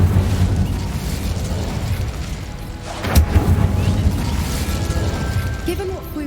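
Incendio fire spell cast in Hogwarts Legacy, a sudden burst with a rushing flare around the middle, then a crackling rumble tailing off, set within a constant loud game ambience.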